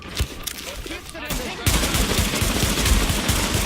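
Rapid gunfire from the video game The Division, bursts of shots that grow louder and denser halfway through, dense and continuous with faint voices mixed underneath.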